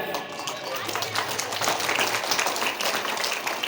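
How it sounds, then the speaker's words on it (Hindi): An audience at a devotional religious discourse claps for the acharya, dense steady applause that fills the whole stretch, with some voices mixed in. "एक बार हमारे आचार्य जी के लिए ताली बजा दीजिए आपने"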